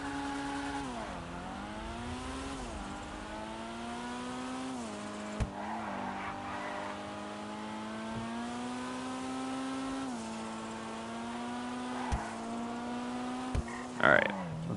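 A JDM car's engine in GTA Online revs steadily over nearly fifteen seconds, pitch rising and falling with gear changes, with a brief tire squeal or knock near the end.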